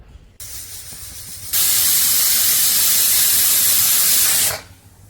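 A pressure cooker cooking peas and potatoes vents steam: a faint hiss builds into a loud, steady rush for about three seconds, then cuts off.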